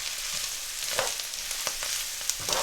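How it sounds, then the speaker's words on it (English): Minced beef stir-fries with spices, onions, ginger and garlic in a karahi, a steady close sizzle with occasional stirring scrapes. "So all of that goes in and continue stir frying it."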